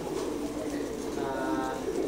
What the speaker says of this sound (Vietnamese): Ở đây là trại chim giống bồ câu ti tan thái siêu thịt các bạn nhé.